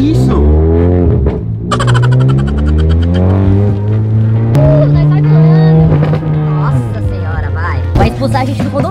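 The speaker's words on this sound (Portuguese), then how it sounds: "O golfe é muito alto, vocês não têm ideia." Loud Volkswagen Golf engine roaring and revving steadily from inside the car on a condominium road, its pitch climbing and dropping as it accelerates, with people talking loudly over it throughout.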